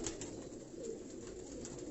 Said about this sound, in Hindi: ये टेडी ब्रीड के ये कबूतर हैं।